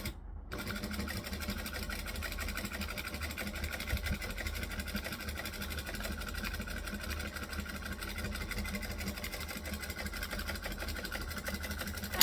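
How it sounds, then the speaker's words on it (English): A sewing machine runs steadily, top stitching a folded seam onto a base with an even, rapid mechanical chatter at a slow, constant pace, close and without talk. "I'm going to fold this seam onto the base and then top stitch along"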